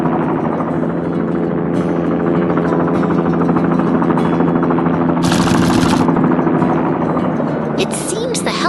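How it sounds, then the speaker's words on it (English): An animated helicopter flies over a city, its rotor chop a steady, loud drone throughout, with bursts of brighter clatter partway through. "The helicopter is back in the air, soaring peacefully above the city once more."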